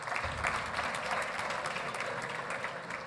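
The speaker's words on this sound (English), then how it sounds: "A round of applause for the ladies as well." Audience applause fills a gala dinner hall at an awards convention, a steady, dense wash of clapping from a large crowd that holds at an even level for the full three seconds with no talk over it.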